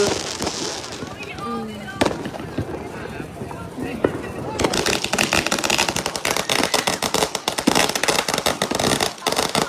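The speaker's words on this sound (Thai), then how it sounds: "ตรงเนี้ยมันเป็นที่สำหรับจุดพลุใช่ไหม" Scattered pops give way to a dense, loud crackling barrage of New Year fireworks going off close by in New Orleans, with voices heard early on.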